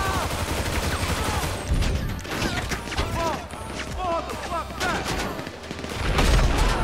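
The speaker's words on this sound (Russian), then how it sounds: "Ух, хороший взрыв-то." Heavy booming blasts and crackling gunfire from a Grand Theft Auto V battle during a bank robbery shootout in the city, dense and continuous, with voices talking underneath.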